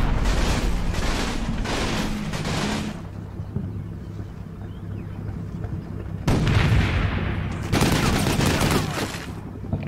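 Artillery shelling and rapid gunfire in the Combat Mission game, Italian campaign, rumbling as dense overlapping booms and bursts in two loud stretches, with a quieter lull between them.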